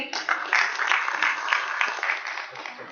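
Sustained applause from a seated audience welcoming a guest at an Indian government agricultural schemes event, steady dense clapping at moderate distance for the full stretch.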